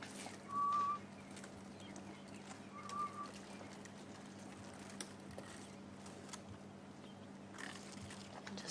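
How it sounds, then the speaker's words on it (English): Two short, clear whistled calls of a grey-headed bushshrike a few seconds apart, fairly distant, over a quiet outdoor background with a low steady hum, at sunrise in the Sabi Sand bush. "Grey-headed bushshrike."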